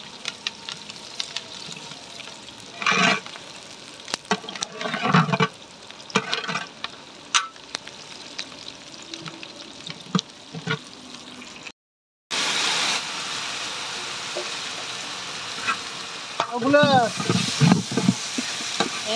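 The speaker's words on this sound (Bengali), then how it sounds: "এখন পেঁয়াজ ভাজতে দীপক" Onions frying in a pan for a home cooked meat dish, a continuous close sizzle broken by stirring scrapes and clatters, with a brief silent gap midway and a tap running near the end.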